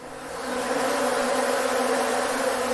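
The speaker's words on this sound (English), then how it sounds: "look, wild bees in the corner there" Wild bees in the corner of a small restaurant with a rooftop allotment give off a steady, droning buzz that swells in over the first half second and then holds at an even, close hum, with no talk.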